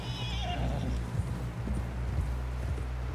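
Horse in Red Dead Redemption 2 neighing near the start, with steady clip-clop of hooves throughout over a low ambient game hum.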